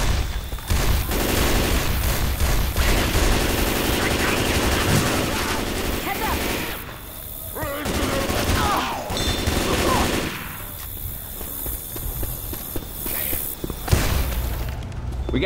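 Assault rifle fire in the zombie shooter Left 4 Dead 2, set at the Dark Carnival, with dense bursts mixed into loud game noise and chatter for most of the stretch, easing briefly midway before resuming.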